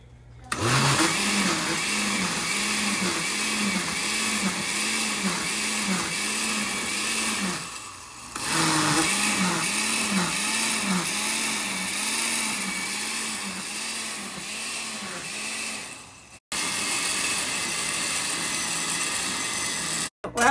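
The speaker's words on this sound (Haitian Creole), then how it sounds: "On va blender." A blender whirs through tomatoes being made into tomato paste, a loud motor drone with a pulsing churn, cutting out briefly midway and again near the end before restarting.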